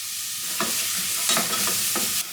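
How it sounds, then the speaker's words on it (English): Chopped onions hit hot sunflower oil in a pan over a gas flame, a dense, steady sizzle with a few sharper crackles and stirring scrapes, close and without voices. "Wait that it sizzles."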